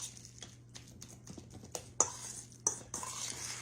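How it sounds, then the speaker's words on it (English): A spoon stirring crab cake mixture in a bowl, soft scraping with a few sharp clinks of metal against the dish, quiet and close over a low hum. "Let's give that a quick little stir."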